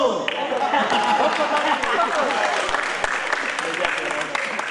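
Seminar audience bursts into applause, a dense, even wash of clapping filling the room for several seconds with faint chatter underneath.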